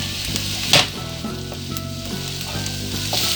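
Peppers and onions sizzle steadily in a frying pan, a close, continuous crackling hiss with a brief louder spatter near the start and no talking.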